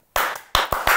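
A few sharp, close hand claps in an uneven rhythm, four quick separate bursts over about a second with no talking.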